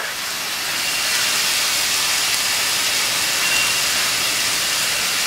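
Onions and garlic fry in a hot pan for pizza sauce, making an even, steady hiss that swells slightly and holds close and continuous, with no voices.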